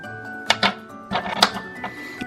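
Small screws being undone on the bottom plate of a Triang model train motor bogie, giving a few close, light metallic clicks and scrapes in short bursts.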